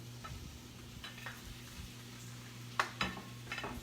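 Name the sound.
quick stir of egg and vegetables frying in pan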